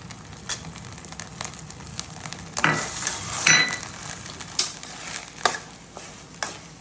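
Dry fruits go into a hot pan for sweet pongal and are stirred, with scattered spoon scrapes and clinks over a soft sizzle at moderate volume.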